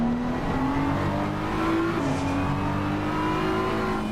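BMW race cars lapping at Snetterton, engines droning loud and close with rising and shifting revs through a sustained, unbroken roar, no voices over it.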